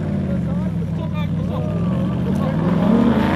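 A rally car at a stage event revs hard and races past close by, its engine note rising and shifting as it goes, while a commentator talks over it throughout.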